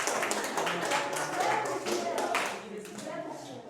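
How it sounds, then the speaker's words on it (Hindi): A classroom audience at a chemistry lecture claps steadily and fairly loudly for a few seconds, with voices mixed in under the applause. "ताली आ जाओ।"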